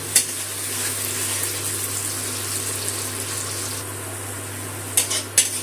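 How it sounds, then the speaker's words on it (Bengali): Ginger, green chili and tomato paste fry in oil, a steady loud sizzle with a constant low hum beneath and a couple of brief scraping clinks near the end, close and without talk. "টমেটো আর আদা বাটাটা একটু তেলে কষিয়ে নেবো, যাতে কাঁচা গন্ধটা চলে যায়।"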